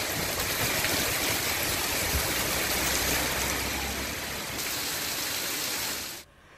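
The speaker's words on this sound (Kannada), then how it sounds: "ದಕ್ಷಿಣ ಕನ್ನಡ ಭಾಗದಲ್ಲೂ ಕೂಡ ಜೋರು ಮಳೆ ಆಗ್ತಾ ಇದೆ." Heavy monsoon rain pours down in coastal Karnataka as a dense, constant hiss of rain on surfaces, loud and steady for several seconds before dropping off abruptly.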